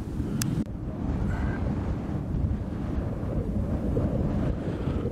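Strong wind at a high mountain point in Jotunheimen National Park buffets the microphone in a continuous, loud, low rumble with constant gusty roar and no voices.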